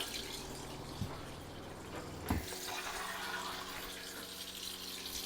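Water gushes steadily from an open tap on a homestead once the freshwater holding tank pump has built up pressure, a continuous close rushing hiss with a brief knock partway through.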